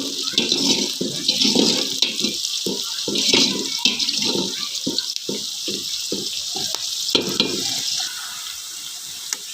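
Onions and curry leaves frying in a pan for drumstick gravy, with a steady sizzle broken by repeated rhythmic stirring scrapes throughout, close and fairly loud, no voices.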